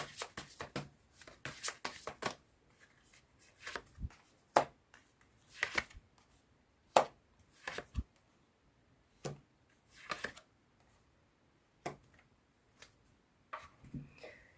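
Tarot cards shuffled by hand, a run of crisp riffling and slapping bursts spread irregularly over about fifteen seconds, close and clear against a quiet background.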